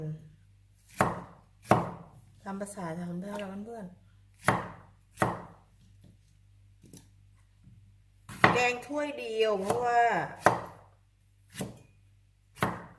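A knife chopping a long eggplant for Thai green curry, with sharp, loud cuts coming at irregular intervals, close by, and someone speaking between and over some of the strokes.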